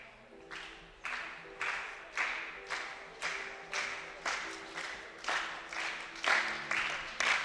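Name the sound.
crowd applauding at rifle shooting championship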